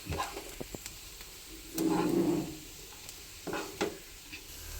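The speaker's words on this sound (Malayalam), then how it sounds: "ഇനി ഇതിലോട്ട് ഈ മസാല ചേർത്ത് കുറച്ചൊന്ന് അടിച്ചു കൊടുക്കുന്നുണ്ട്" Masala and tomato puree are stirred in a pan for chana masala, with soft scraping and light clicks of the spoon and one longer burst of stirring over a faint sizzle.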